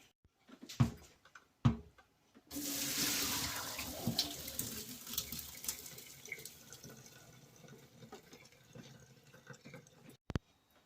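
Water is poured off cooked rice in a home kitchen while making sweet yellow zarda rice. After a couple of sharp knocks, a loud, close gush of draining water starts and slowly tapers into trickling and splashing.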